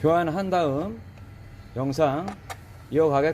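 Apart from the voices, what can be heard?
None of the usual background noises is heard.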